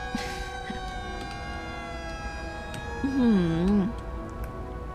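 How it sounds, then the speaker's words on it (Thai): A police car siren in the city-building game Cities: Skylines gives a brief wavering wail near the end, set against steady sustained game music and faint ticking. "รถตำรวจ"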